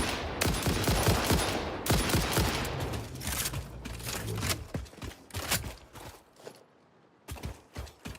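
Bursts of rapid gunshots in the video game Satisfactory, loud volleys for several seconds, then thinning into scattered single shots and quieter gaps toward the end.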